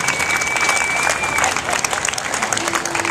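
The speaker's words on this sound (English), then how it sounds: "Let's have a round of applause for these fine people" An audience claps for volunteers coming out of a stage hypnosis show, a loud, dense, continuous burst of applause throughout, with a faint tone running underneath.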